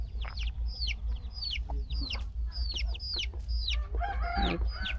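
Chickens cluck and squawk repeatedly close by in a duck and chicken coop with Muscovy ducks, with a low steady hum underneath and a rough, noisy burst of fowl calls near the end.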